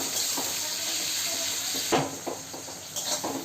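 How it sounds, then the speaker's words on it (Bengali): Tomato, green chili and onion sautéing in a pan for an egg curry, with a steady soft sizzle throughout and a few light spatula scrapes and clinks near the end. "টমেটোটা গলা পর্যন্ত একটু কষিয়ে নেব"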